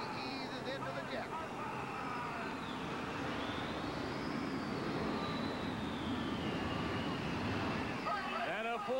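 A jet engine roars steadily at full pull on the Green Monster, a jet-powered truck at a 1987 monster truck event in Phoenix, a dense broadband blast with a rising whine, under an announcer's voice and crowd noise.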